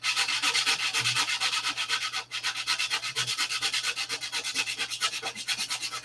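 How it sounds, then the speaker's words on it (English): Superfill filler being hand-sanded on fillets, a close, steady run of rhythmic back-and-forth rasping strokes, fast and even, with a brief break partway through. "You can see how easy the superfill sands"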